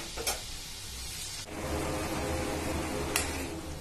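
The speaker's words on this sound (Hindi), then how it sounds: "तो मीडियम फ्लेम में इसको तलना है।" Food frying in oil over a medium flame, a steady soft sizzle that thickens after a brief pause, with a couple of sharp clicks or clinks from utensils; no talking.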